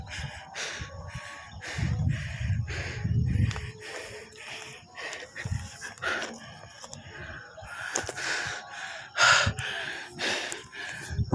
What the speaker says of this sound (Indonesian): Ngos-ngosan apa saya.